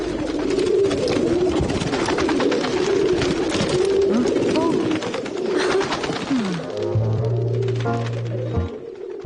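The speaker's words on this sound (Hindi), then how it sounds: "देख रही हो ना कैसे गुटरगू कर रहे हैं" Pigeons cooing among many birds, a steady layered chorus of low burbling coos throughout, with a brief voice and a low hum near the end.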